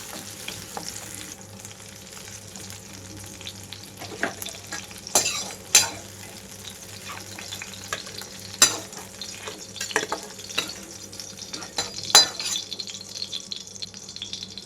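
Green chilies fry in hot oil with a soft continuous sizzle, punctuated by sharp clinks and scrapes of a spoon stirring against the pan.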